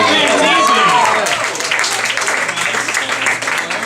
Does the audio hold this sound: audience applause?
yes